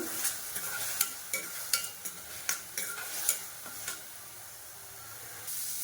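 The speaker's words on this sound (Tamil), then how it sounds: "இப்போ இந்த வெங்காயத்தை வந்து நல்லா வதக்கிக்கணும்." Onions sizzle steadily in hot oil while a utensil scrapes and taps the pan in irregular strokes, cooking for a chicken and lotus seed curry.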